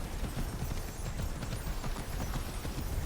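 Horse hooves clip-clop in Immortals Fenyx Rising, a quick, steady trotting rhythm of close, fairly loud footfalls with nothing else over them.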